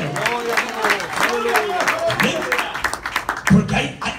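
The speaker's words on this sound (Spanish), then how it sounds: "Dele fuerte de palmas al que vive." A church congregation at a Spanish-language worship service in Texas claps steadily together, the applause mixed with a voice speaking or singing over it and a louder burst near the end.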